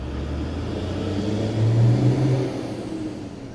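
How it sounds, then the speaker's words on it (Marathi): A truck engine runs as a sound effect in an audio horror story, a steady low drone that swells briefly as it revs before settling back, with no voices. "ट्रक सुरू झाला."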